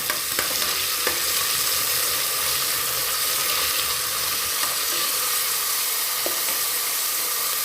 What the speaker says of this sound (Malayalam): ഇനി നമുക്ക് എടുത്തു വെച്ച ക്യാരറ്റും കിഴങ്ങും ഇട്ട് കൊടുക്കാം ഒന്ന് മിക്സ് ചെയ്ത് കൊടുക്കാം